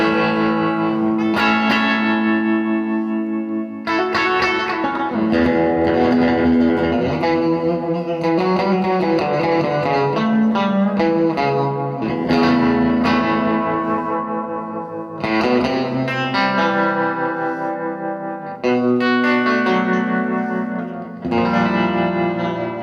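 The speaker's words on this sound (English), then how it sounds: "Adding a little bit of additional reverb to it." Electric guitar run through a Strymon Flint tremolo and reverb pedal, playing sustained chords with a pulsing tremolo and a lush reverb tail, loud and close with no talking.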